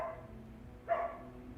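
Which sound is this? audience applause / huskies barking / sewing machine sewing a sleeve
huskies barking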